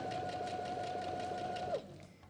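A foot-pedal sewing machine runs a straight seam, its steady whirring hum continuing for nearly two seconds and then stopping abruptly, close and moderately loud.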